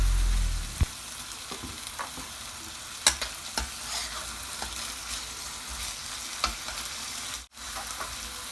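Bean sprouts, chicken and tofu stir-fry in a pan for a Thai dish, with a steady close sizzle broken by sharp clicks and scrapes of the utensil.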